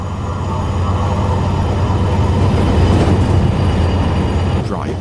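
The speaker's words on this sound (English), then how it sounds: "You'll hear your train passing." A London Underground-style train in the Tube Sim video game passes in external view, a loud, steady rumble of wheels and motors that swells and then fades, with a faint squeal near the end.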